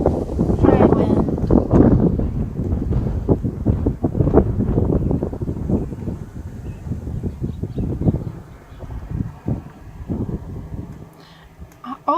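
Wind blows outdoors on a hot day, buffeting the microphone with a rough, continuous low rumble that is strongest early on and eases toward the end, with a few brief knocks.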